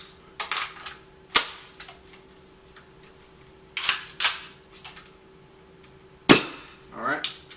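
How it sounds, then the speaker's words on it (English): A WE KAC PDW airsoft gun dry firing on full auto with no BBs loaded and a buffer fitted, giving sharp mechanical clacks in short bursts separated by pauses, close and loud. "Alright, here it is, full auto with the buffer inside."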